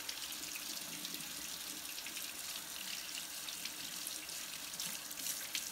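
Water runs steadily from a tap as a Coleman Q99 generator part is flushed clean, a continuous close hiss and splash with no talking.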